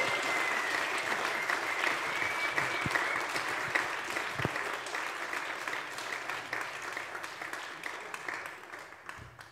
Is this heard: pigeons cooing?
no